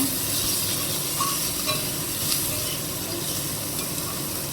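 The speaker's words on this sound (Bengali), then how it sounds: "আলুটা পেঁয়াজটা লাল লাল করে ভেজে নেব" Potato and onion fry together in a pan, a steady loud hissing sizzle with faint stirring scrapes, close and unbroken for a few seconds.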